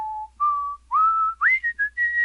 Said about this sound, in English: It took me a shameful amount of time to figure out what he was whistling.